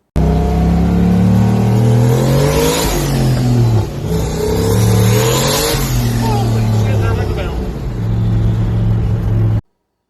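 A turbocharged LS-swapped 1969 Ford F100 with a three-on-the-tree manual accelerates hard and spins its tires, loud close engine roar climbing through revs, a brief dip around four seconds, then rising again before cutting off abruptly.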